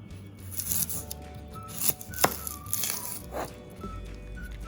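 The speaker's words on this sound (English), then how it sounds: "Just peel off the skin first before I cut it." Dry papery crackling and tearing as the skin is peeled from a large Bombay onion, close up, in irregular bursts with no talking.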